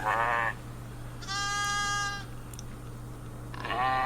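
Captain Cook's goats (Arapawa goats) bleat in three separate calls, loud and close, with a low steady hum underneath and quiet gaps between cries.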